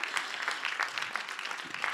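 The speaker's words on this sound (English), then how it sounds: "should we give a round of applause to Houndstooth?" Brief burst of applause from a lecture audience at an academic lecture series, steady dense clapping with no voices over it.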